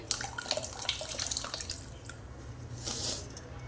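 Pieces of jackfruit are dropped into a bowl of water while preparing a Konkani-style jackfruit vegetable dish, giving soft splashes and drips that run steadily throughout with a brighter watery burst near the end.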